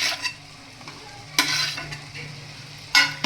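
Boiled noodles are stirred into spices frying in a pan with red chilli powder, giving a soft sizzle under repeated scraping and clattering strokes of a utensil against the pan.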